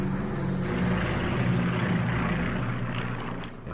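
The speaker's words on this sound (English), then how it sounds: "Aircraft moving about." An aircraft engine drones loud and steady in the Strategic Command Allied 1939 Storm Over Europe wartime strategy game, a continuous propeller hum that fades slightly at the end.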